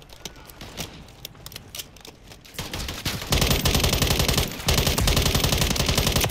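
Rapid automatic gunfire in Modern Warfare III multiplayer: dense, repeated shots that start scattered, then build into loud, continuous bursts with a brief pause near the end.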